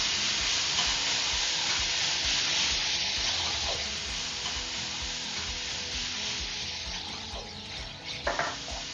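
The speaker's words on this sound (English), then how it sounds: "after it starts to brown a little bit, and Jackie's going to add the celery and onion" Chopped onion and celery sizzle in a nonstick frying pan for sloppy joes, a steady bright frying hiss with soft stirring scrapes near the end.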